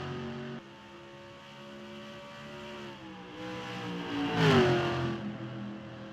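Race cars on a track, engines revving and droning with shifting pitch, one car swelling louder as it passes close around the middle before receding, no voices.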